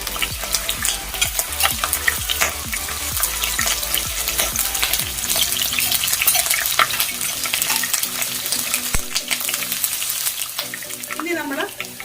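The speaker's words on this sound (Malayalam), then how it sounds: "എണ്ണ ചൂടാകുമ്പോഴത്തേക്ക് കുറച്ച് കറിവേപ്പില ഇട്ട് കൊടുക്കാം." Curry leaves and crushed kanthari chillies frying in hot oil for a prawn fry, a dense, loud, continuous crackling sizzle with occasional stirring scrapes, close up and steady throughout, with no talking.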